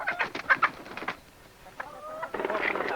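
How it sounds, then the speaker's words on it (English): Chickens at a slaughterhouse clucking in short, bright bursts. A bout of close calls starts the moment, a quieter pause follows with a few thin chirps, and a denser run of clucking returns at the end. "As for the chickens, they've now become free range."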